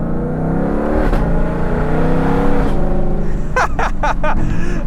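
A Ford Shelby GT500 King of the Road engine revs hard, climbing in pitch, dropping briefly at each manual gear change, then roaring up again, loud and close.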